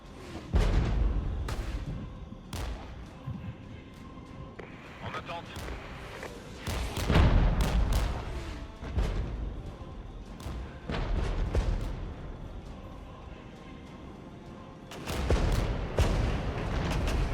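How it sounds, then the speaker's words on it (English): Infantry mortars firing in the video game Regiments, heard as repeated heavy booms and thuds at irregular intervals over a constant rumbling battlefield background. "Oh, so these are infantry mortars."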